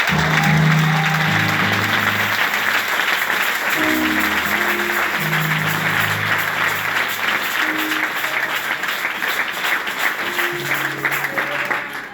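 Congregation clapping hands in acclamation during a church service, sustained dense clapping from a crowd heard close and loud throughout, with low hum-like tones and murmured voices underneath.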